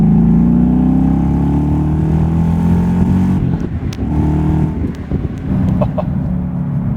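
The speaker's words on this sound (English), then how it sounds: "Just listen to this engine." A 2012 Ford Mustang Boss 302 engine revs with a rising growl, then settles into a rough, burbling idle, loud and close.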